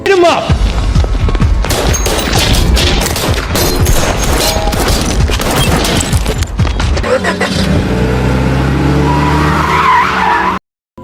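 Rapid bursts of gunfire crackle loudly for several seconds amid screeching tires and engine roar, then give way to a revving car before cutting off.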